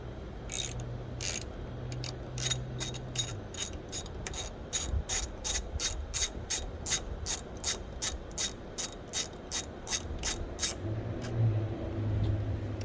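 Rapid ratchet clicks come in quick bursts as a ratchet loosens a 6 mm bolt on a Honda Rebel 1100 motorcycle, close and crisp over a faint low hum, with short pauses between strokes.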